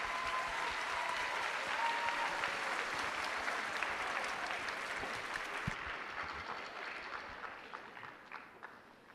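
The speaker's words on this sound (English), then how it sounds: "So please stand on your feet and give yourself a round of applause." Standing round of applause from a large audience at a school district convocation, dense clapping that gradually thins and fades toward the end, with a few voices calling out.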